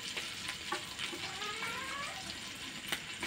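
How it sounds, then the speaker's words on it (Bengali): Slices of bread frying in Amul butter in a frying pan, a steady close sizzle and crackle with soft stirring scrapes, no voices. "এবার এর মধ্যে ব্রেডগুলো আমি ভেজে নেব"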